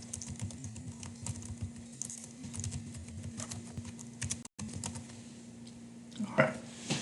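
Typing on a computer keyboard: quick, irregular bursts of close keystrokes run for about seven seconds over a low steady hum, with one brief pause near the middle and a louder clack toward the end.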